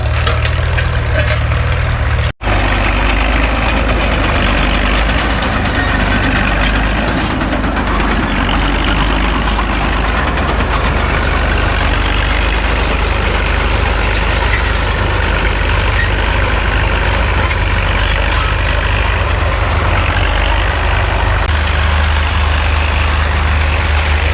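Allis-Chalmers WD tractor at a fall plow day, its engine droning steadily and loudly at close range for the whole stretch, a low heavy rumble with no break apart from one brief dropout near the start.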